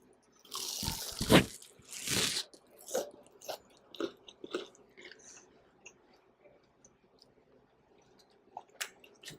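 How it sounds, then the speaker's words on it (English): Crunchy fried coconut shrimp being bitten and chewed up close, two loud crisp bites followed by a series of softer, irregular crunching chews that fade toward silence. "let me try one for you so you can see how crunchy they are and perfectly cooked"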